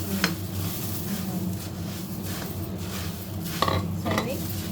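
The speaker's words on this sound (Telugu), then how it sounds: "ఇప్పుడు ఇందులో వేసేస్తాను మురుమురా వేసేస్తాను" Puffed rice and sesame seeds are stirred together in a pan while making murmura laddu, giving a continuous dry rustle and a few sharp metallic clinks of the spoon against the pan.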